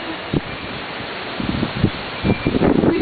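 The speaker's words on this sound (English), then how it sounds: "As the wind continues on its relentless path." Gusty hurricane wind during Hurricane Frances buffets the microphone near the shore, a steady roaring rush with irregular louder bursts that build toward the end.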